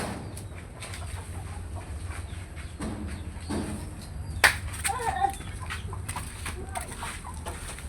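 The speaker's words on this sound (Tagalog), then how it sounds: "ito pa, may manok pa. Ito pa manok." Chickens in a home garden cluck softly and intermittently against steady outdoor background noise, with a brief louder squawk midway.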